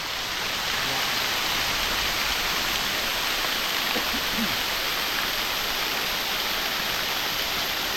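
A natural waterfall at Nong Hin district in Loei province roars as a dense, steady rush of falling water, loud and unbroken from start to end.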